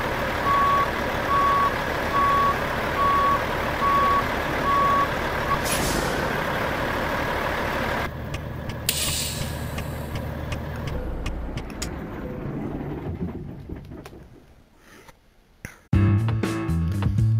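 A heavy truck engine in Euro Truck Simulator 2 rumbles loudly and steadily, with repeated reversing beeps early on, then a hiss of air brakes as the engine winds down.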